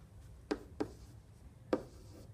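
Three brief pen strokes scratch across paper close by as a number is written down during a math lesson, set against a quiet room with no talk.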